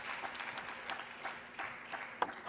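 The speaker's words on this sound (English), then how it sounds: "Listen to the noise of the crowd." Crowd at a women's doubles badminton semifinal at the 2025 US Smash event, heard as faint, distant clapping and cheering with scattered bursts and one sharper clap near the end.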